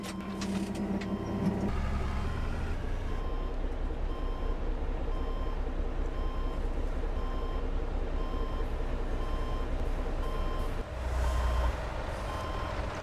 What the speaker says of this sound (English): we're gonna back up that truck there